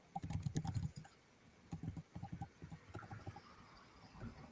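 Keystrokes on a computer keyboard come in quick bursts of clattering taps, pausing between runs, close up and moderately loud with no voices over them.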